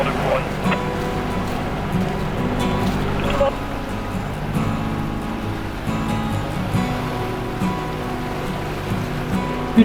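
A sailboat under engine power crosses the Gulf of Fos on a calm, windless day, its motor giving a steady low drone and hum that runs continuously alongside faint water and hull noise.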